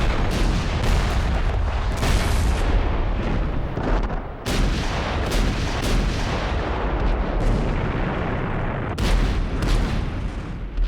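Artillery cannon fire in a World War I Dardanelles battle, with powerful, mobile Turkish coastal guns. Dense, continuous booming and blasts fill the whole stretch, and sharp, louder shots stand out now and then. No voices.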